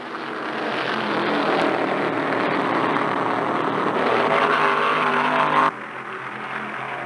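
Stock race cars from the 1975 Permatex 300 roaring past in a continuous, loud engine drone that swells and holds, then drops suddenly near the end.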